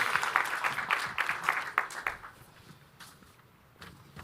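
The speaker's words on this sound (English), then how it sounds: "That deserves a round of applause," Audience at a live tech-team leadership event applauding, a scattered round of claps that starts fairly close and lively, then thins and fades out over a few seconds.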